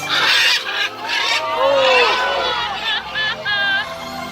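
Birds take flight during the Winged Encounters show at Animal Kingdom, giving loud, honking, squawking calls in quick overlapping bursts over a steady murmur of crowd noise.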